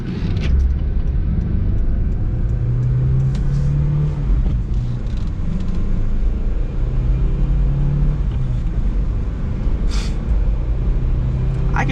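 Engine of a 1997 Daihatsu Terios CX four-cylinder, four-wheel-drive, heard from inside while driving: a steady low rumble with rising and falling revs and road noise, no talking.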